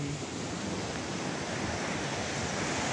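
Sea waves at high tide surge and wash continuously, a dense, loud roar of surf with no breaks or voices.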